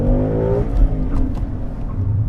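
A 2017 Ford Mustang GT PP V8 accelerating on a track, its loud engine note rising in pitch for about half a second before easing into a rougher, steady roar.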